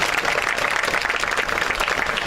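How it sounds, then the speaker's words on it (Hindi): A crowd at an outdoor village panchayat gathering applauds as thanks to God, a thick, continuous clatter of many hands that stays loud and even throughout. "सबसे ज़्यादा तालियां जो हैं ईश्वर का धन्यवाद करते हुए बजनी"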